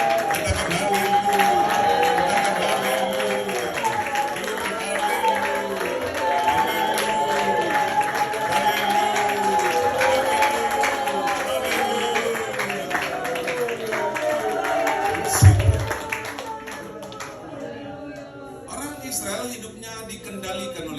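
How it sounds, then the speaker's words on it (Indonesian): A church congregation claps hands overhead during worship, a steady dense patter of many hands that continues evenly for most of the stretch, with crowd voices and music underneath and a sharp louder hit near the end. "Kita beri tepuk tangan mempermuliakan Tuhan. Tepuk tangan di atas kepala"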